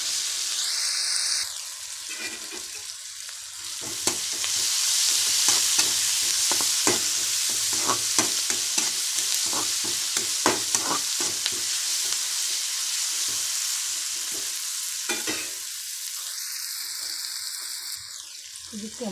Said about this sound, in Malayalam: ഉള്ളി നല്ലോണം ഒന്ന് വഴറ്റിയിട്ട് വേണം നമുക്ക് തക്കാളി ഇടാൻ കേട്ടോ.